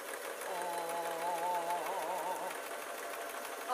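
A sewing machine stitches cloth for a string bag, running steadily with a continuous close whirring hum for several seconds and no talking.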